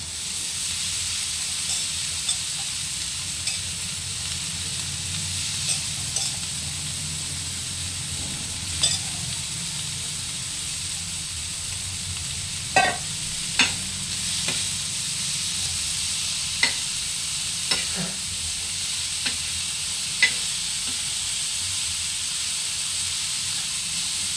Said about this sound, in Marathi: कांदा परतलाय.